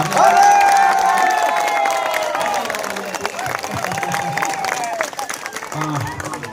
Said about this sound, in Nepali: उहाँलाई जोरदार तालीले स्वागत गरौँ